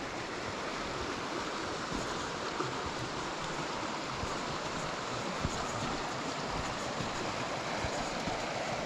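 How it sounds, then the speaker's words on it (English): The River Wansbeck rushes past a stone viaduct leg in a steady, broadband roar of flowing water, constant and fairly faint, with occasional wind buffeting and no voices. "So that shows you the power of the water where it's rushing past the leg of the viaduct."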